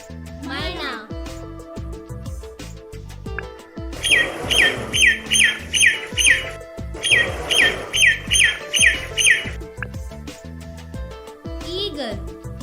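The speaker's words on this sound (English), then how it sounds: "Myna." Myna calling in two loud bursts of rapid, repeated squawking notes over background music, with a brief voice before and after.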